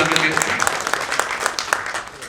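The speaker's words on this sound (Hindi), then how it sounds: "तालियां बजा रही है" Audience applause at a Hindi comic poetry gathering (kavi sammelan), a steady patter of clapping with scattered voices mixed in, moderately loud and short.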